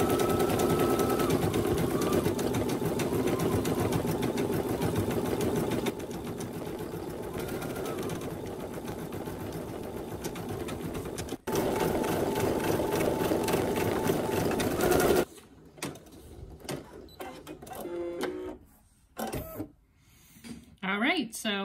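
A home embroidery machine such as a Brother SE1900, PE800 or PE700 stitches white thread with a steady, close mechanical whir for about fifteen seconds, then stops, leaving scattered handling clicks and rustles.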